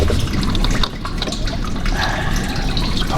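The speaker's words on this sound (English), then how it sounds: "Here we've got a better flow going on, the dripping into the waste tray." Coolant pours and drips from a 3.6 V6 Dodge Grand Caravan into a waste tray, a steady close splashing flow that runs loud and continuous with no talk.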